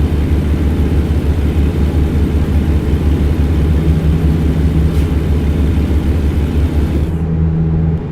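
Steady, loud low-pitched drone of a Kenworth W900 truck engine in American Truck Simulator, a continuous heavy rumble holding nearly constant throughout with a faint tonal hum partway through.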